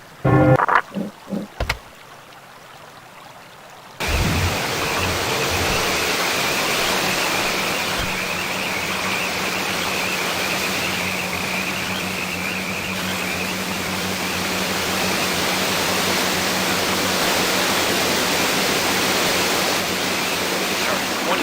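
Steady rushing roar of a waterfall in the video game American McGee's Alice, broad and constant for about seventeen seconds, following a few short thumps and a quiet stretch at the start.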